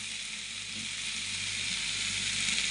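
Chicken curry cooked with little spice sizzles steadily in a pan as water goes into it, a continuous close, even hiss with a low hum beneath and no talk.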